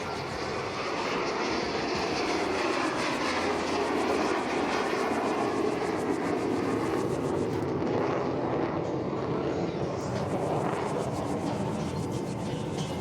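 A jet aircraft at an airshow flies slowly overhead with its engine throttled back. It gives a loud, steady roar and hiss that fills the whole stretch with no break and no voices.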